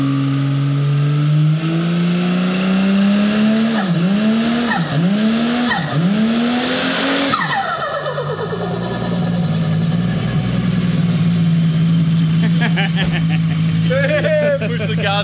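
Turbocharged car engine revving hard, repeated throttle blips each ending in fluttering turbo chatter from the dose pipe, then a long sustained rev with tire squeal; loud and close, with voices talking over it.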